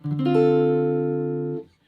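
A single drop 3 voicing guitar chord strummed with the bass note first, the notes rolling in quickly and then ringing together evenly for over a second before stopping.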